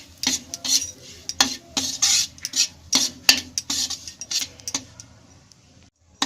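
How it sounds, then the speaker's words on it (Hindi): A spoon scraping and stirring semolina as it roasts dry in a pan, a steady run of clinking metal scrapes and strokes, close and fairly loud, tapering off toward the end. "सूजी भूंज लेंगे। इसको हम भूरा होने तक"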